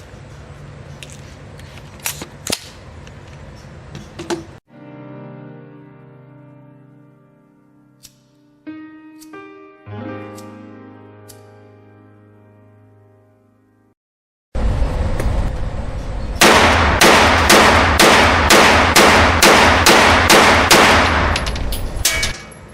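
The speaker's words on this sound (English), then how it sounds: "I have a mag here and we have 30 rounds, and I'm just gonna shoot it and see how it works." An AR9 direct blowback rifle firing a 30-round magazine outdoors: a dense string of loud, sharp reports in rapid succession near the end, after quieter clanks and handling noise earlier.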